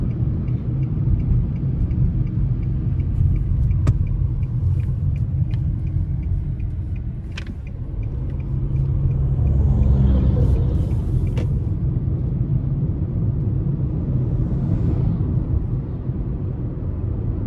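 A 2025 Nissan Altima S gives off a steady low engine and road rumble while driving, loud and continuous from inside the cabin, swelling slightly midway.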